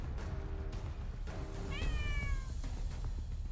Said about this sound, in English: One lost kitty cat.